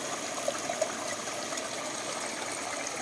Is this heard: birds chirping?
no